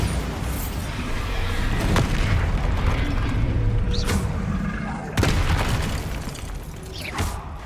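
A Bombarda spell explodes in Hogwarts Legacy with several sharp booming blasts spaced seconds apart over a steady wash of loud battle noise, and a voice speaks faintly in the background.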